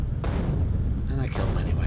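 A grenade goes off in Factorio, a sharp, heavy blast near the start followed by a dense rumbling wash of game noise and further crackling detonations.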